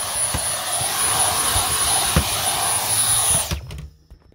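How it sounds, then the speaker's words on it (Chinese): A small handheld car vacuum cleaner running at its third speed setting while cleaning a mouldy car interior, a loud steady whining motor drone with a faint knock, then it cuts off and winds down near the end. "我知道为什么要用汽车吸尘器"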